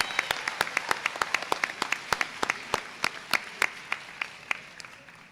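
A graduation audience applauds early college scholars with sparse, distinct claps in a fairly regular rhythm, each hand clap sharp and clear against a quiet hall, continuing steadily for several seconds.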